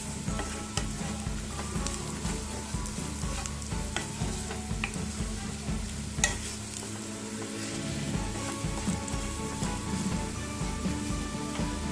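Spices and crushed ginger for kadai paneer fry in a kadai and are stirred continuously, a busy crackling sizzle with rhythmic scraping of the spoon, close and sustained, with no speech.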